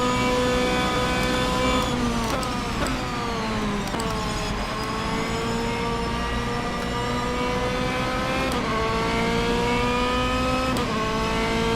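A race car in rFactor 2 running the URD 2018 mod brakes into a chicane with the front outside wheel locking, engine pitch dropping in steps through downshifts over a loud continuous drone and tyre noise.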